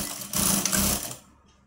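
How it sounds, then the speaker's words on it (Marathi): A sewing machine runs in one short, steady burst of about a second while stitching the lined seam of a katori blouse with a quarter-inch margin, then stops; it is close and moderately loud with no talk. "आणि आता आपण पाव इंच मार्जिन ठेवून आपल्याला शिवायचं आहे।"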